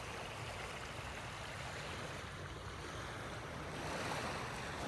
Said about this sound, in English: So peaceful listening to the waves here. The little waves,